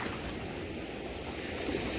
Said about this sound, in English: The waves try to take me out.